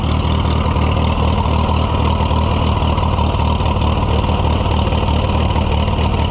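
A vintage Case tractor engine runs steadily with the choke pulled all the way out, giving a loud, even, close-up rumble with a fast regular chugging pulse and no pauses.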